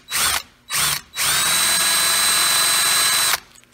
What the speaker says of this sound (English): Now we'll go to an even larger drill bit.